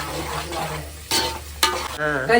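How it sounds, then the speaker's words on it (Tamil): Ginger and garlic sizzling in a pan for a village-style goat head curry, a loud close frying hiss with a few sharp stirring scrapes and knocks. "இஞ்சி பூண்டு போடுங்க போடுங்க. அது நல்லா வதங்கட்டும்"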